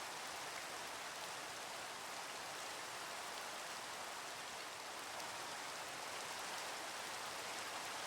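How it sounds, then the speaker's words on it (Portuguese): An ambient rain sound effect plays as a continuous, even hiss of falling rain from start to finish, with no talk over it. "Vamos tirar a chuva para não atrapalhar vocês de ouvirem."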